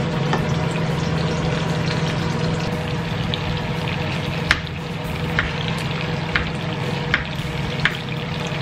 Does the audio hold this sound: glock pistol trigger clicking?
no